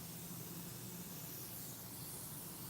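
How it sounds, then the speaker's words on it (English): A can of transparent smoke spray hisses in a steady, continuous, faint stream, used on a disco lip makeup piece, with no talking over it. "it doesn't look like I'm spraying anything on here. This is how light that transparent smoke is."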